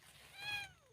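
A cat meows once in a forest at midnight, a thin, faint, rising-and-falling cry set against quiet night ambience.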